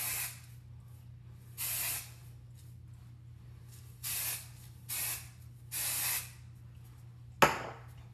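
Wig wax spray from an aerosol can is sprayed onto a synthetic wig in several short, close hissing bursts, followed by a sharp click near the end.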